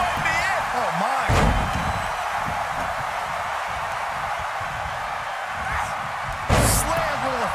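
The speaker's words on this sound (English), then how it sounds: "Slammed with authority." A heavy body slam lands in a fighting video game, a sharp loud impact near the start and another near the end over a steady bed of game music and crowd noise, with a commentator talking throughout.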